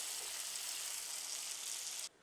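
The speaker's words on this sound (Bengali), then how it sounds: "সেই তেলটার মধ্যে আমি পেঁয়াজ দিয়ে দিচ্ছি" Onions sizzling in hot oil left over from frying long beans, a bright, even hiss that holds steady for about two seconds and then cuts off suddenly.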